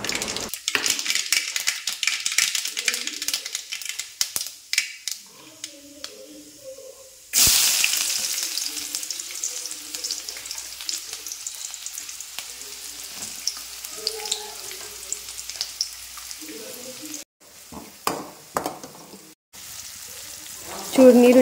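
Mustard seeds frying in hot oil in a home kitchen give a steady, close sizzle with scattered crackles. It pauses briefly partway through, then continues, with a few utensil clinks near the end.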